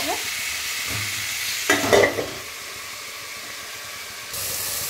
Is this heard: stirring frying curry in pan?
yes